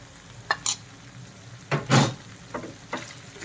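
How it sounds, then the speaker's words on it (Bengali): Spice paste of turmeric, coriander and chili powders, salt and ground cumin fried with onions for mutton brain bhuna, stirred in bursts of spatula scraping over a soft, steady sizzle, with no talking. "আর মশলাটা ভালোভাবে পেঁয়াজের সাথে মিক্স করে কষাবো"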